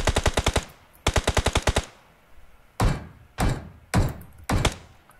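Gunfire in the mobile battle royale PUBG Mobile: two rapid automatic bursts of about eight shots each, then four separate heavy single shots, loud and close with no talk over them.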